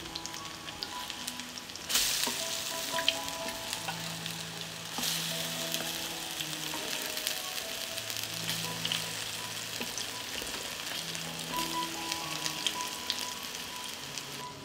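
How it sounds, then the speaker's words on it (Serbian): Zucchini slices fry in hot oil in a pan for a few minutes per side, giving a steady close sizzle with occasional stirring and bursts of louder crackle, heard under soft background music without talking. "I tikvice pržimo po 3 minuta sa obe strane"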